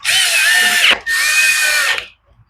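Two sustained bursts from a power drill driving screws into the plastic front end of a lawn mower, each whirring for about a second with a brief pause between, loud and close, ending in quiet.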